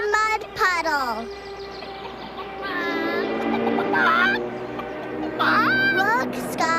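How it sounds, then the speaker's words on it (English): A cartoon duck honks in a series of loud, squawking calls, several bursts spread across the stretch, with animated background sound beneath. "See the big flying duck."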